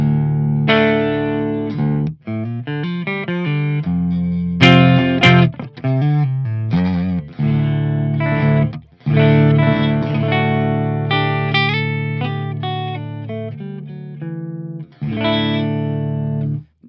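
A Les Paul electric guitar plays a clean tone through a Fender Tone Master Pro with flat settings and presence turned down. Loud, dry chords and single notes ring out in phrases with short pauses and no reverb.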